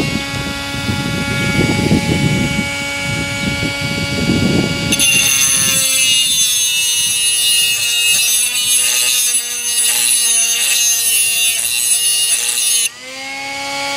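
SAKER 3-inch cordless angle grinder cutting through material, a loud high-pitched whine with sustained harmonic tones that holds steady for several seconds, then drops as the cut eases off.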